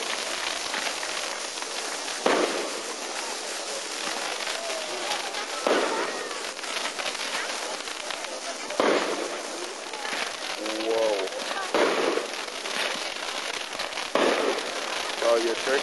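Illegal fireworks and firecrackers crack and pop repeatedly at a backyard Christmas tree burning, loud bursts every few seconds over a steady crackle, with people talking throughout.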